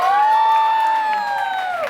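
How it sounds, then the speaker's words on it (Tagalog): Party guests at a Jollibee birthday party let out a loud, sustained cheer with a high whooping voice on top, close and bright, fading slightly toward the end. "bigyan po muna natin sila ng isang malakas na palakpak"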